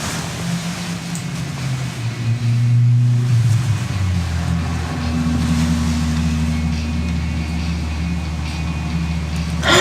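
A car engine runs steadily with a deep, droning low rumble that swells as it revs partway through, then settles back into a loud, sustained hum.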